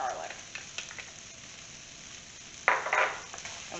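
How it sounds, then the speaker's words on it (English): Chopped garlic frying in a pot with softened onion, carrots and celery for a chicken pot pie, a soft steady sizzle that flares louder with stirring near the end. "we're going to add garlic, all that chopped garlic."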